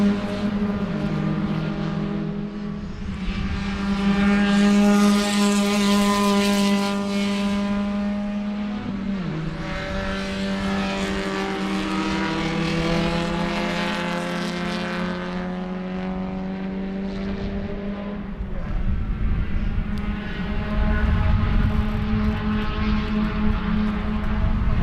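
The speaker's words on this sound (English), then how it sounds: "Look at this pack of cars coming in here, man." Race cars at Sebring in an SCCA Central Florida Region event roar past in a loud, sustained engine drone with shifting pitch as the pack passes, swelling and fading over the run.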